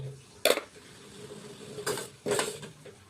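Kitchen clatter of a pot being tipped and poured into a bowl, then a gas stove being lit, heard as three short metallic scrapes and clanks against a quiet background.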